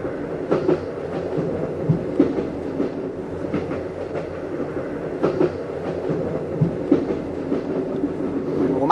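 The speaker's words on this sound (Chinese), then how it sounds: "两个火车擦肩而过，我觉得是最最刺激的时候" Two trains rush past each other at speed, with a steady, loud rolling rumble broken by repeated sharp clicks and clatter from the wheels over rail joints. No one speaks.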